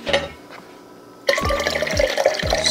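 Water pours into a container during home dim sum making. A soft trickle gives way to a louder, close splashing fill with a few dripping ticks, and no one speaks.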